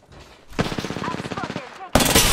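Rapid automatic gunfire in a video game shootout, a dense rattling burst of shots for over a second, then a sharp loud blast at the end, with a faint game voice in the background.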